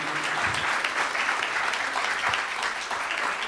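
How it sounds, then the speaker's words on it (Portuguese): A congregation at a religious gathering claps together in a full, steady burst of applause, close and loud, sustained without pause or voices. "Vamos aplaudir o nosso rei."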